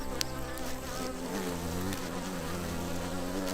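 A dense, continuous buzzing swarm of Japanese giant hornets attacking a Western honeybee colony, many wings droning together at close range with a sharp tick near the start and no talking.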